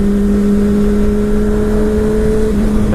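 Honda CBR 600RR motorcycle engine running steadily up close, a continuous loud droning hum with a constant pitch throughout, no voices.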